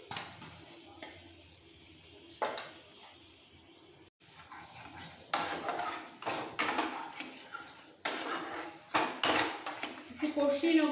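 Spoon scraping and clinking against a pan as capsicum paneer masala is stirred, a run of irregular close metallic strokes with faint sizzling underneath.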